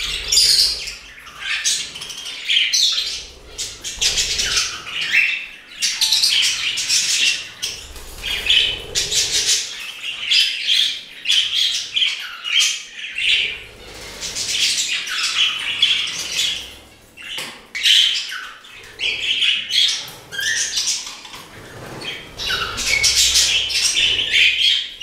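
Budgerigars and finches in an indoor bird room fill the air with constant overlapping chirps, squawks and tweets, close and lively, with occasional wing flutters and no talking.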